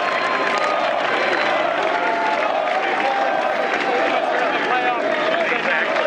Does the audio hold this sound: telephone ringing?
no